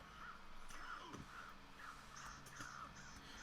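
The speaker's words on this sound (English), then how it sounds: "Oh, are your crows attacking me now," Several crows caw in a video game, giving repeated harsh calls at an uneven pace that sound moderately distant, with no voices over them.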